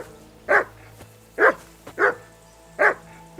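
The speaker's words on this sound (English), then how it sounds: "Call that dog to heel." A dog in the video game Kingdom Come: Deliverance II barks four times in close, loud bursts spaced about a second apart, with no talking.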